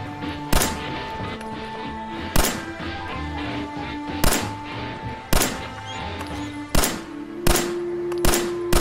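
Gunfire from the Fallout 4 video game: about seven sharp, loud shots spaced irregularly a second or so apart, each a broadband crack with a short tail, over a steady droning in-game music and ambience bed.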